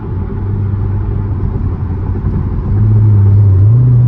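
A loud C7 Corvette drives at night, its engine a deep continuous rumble from inside the cabin that swells and rises in pitch as it accelerates toward the end.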